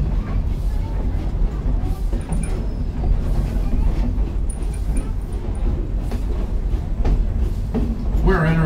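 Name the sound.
train entering the station, Grand Trunk Railroad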